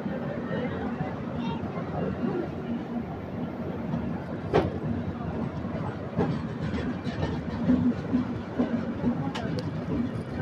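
East Coast Express, train no. 18045, rolls on past Bhuvanagiri toward Secunderabad, heard from a 3rd AC coach as a steady rumble with occasional clicks and knocks, and faint speech in the background.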